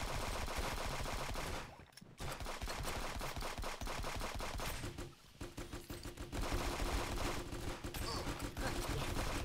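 Dense, continuous machine-gun fire and turret shooting roar through a video game match, loud and sustained with a couple of brief pauses, and players talk faintly beneath it.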